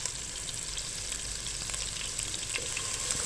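Onions fry gently in a pan for a daal chicken dish, giving a soft, even sizzle with faint crackles and occasional light stirring ticks. The sound is quiet and close, with no talking.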